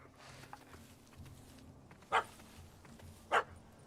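A dog in The Witcher 3 gives two sharp, separate barks about a second apart over a quiet game ambience.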